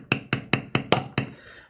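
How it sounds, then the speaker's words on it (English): Six sharp hammer strikes on a workbench during leather tooling, evenly spaced about a fifth of a second apart, close and fairly loud, each with a short ringing tail, the last one slightly softer. "It's really hard when somebody else is hammering on the table."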